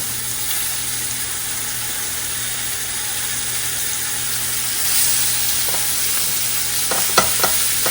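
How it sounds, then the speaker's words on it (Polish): Chopped onion fries in rendered pork fat in a pot, giving a steady close sizzle, with a few sharp stirring scrapes toward the end. "cebulka teraz się smaży"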